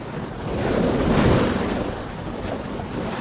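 Waves and wind at sea aboard a boat in a radio drama, a broad rushing wash of surf and gusts swelling toward the middle and easing, heard alone without voices.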